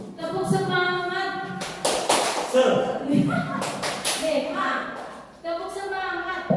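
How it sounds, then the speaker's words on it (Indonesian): A group of people does the rhythmic 'tepuk semangat' spirit clap, sharp patterned claps in quick bursts, mixed with a leading voice talking and chanting between the sets of claps. "Oke, kita tepuk semangat dulu ya."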